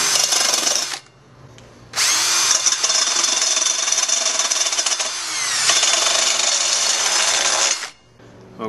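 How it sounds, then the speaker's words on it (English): A high-pitched power drill whines at high RPM with a sanding drum, widening an opening in a homemade beauty dish, running in two long bursts separated by a brief pause, loud and close. "the rotary tool and the drum sander on a drill on high RPM"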